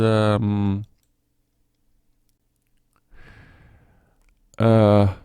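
Someone types a web address on a computer keyboard, a brief, faint patter of key clicks in a quiet gap between stretches of someone talking.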